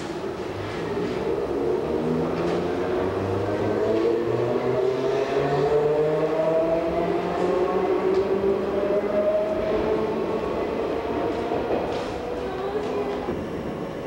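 An Enoden 2000-series electric train, in service since 1990, runs along the line with a steady, fairly loud rumble and motor whine that rises and shifts in pitch as it travels.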